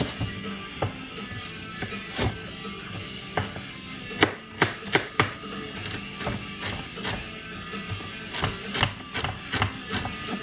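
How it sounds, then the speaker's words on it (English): Vegetables for a vegan chickpea stew are chopped with a knife on a cutting board, with sharp, close knocks in irregular clusters and a quick run of rapid strikes near the middle, over a faint background hum. "I'm trying to move my fingers where you can see me chopping"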